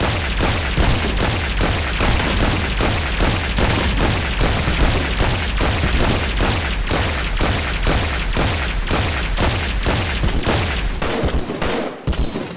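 Loud, rapid automatic gunfire from the Scorched Guns 2 mod in Minecraft, a relentless evenly spaced burst of close shots lasting over ten seconds before stopping abruptly, with no talking.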